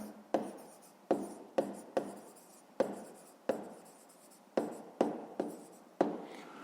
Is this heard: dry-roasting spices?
no